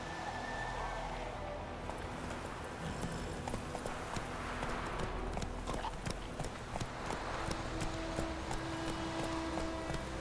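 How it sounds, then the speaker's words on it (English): Horse hooves clip-clop in a steady, even rhythm in The Witcher 3 on Nintendo Switch, moderately close over a low ambient bed of game background sound. "Whoa there, Roach."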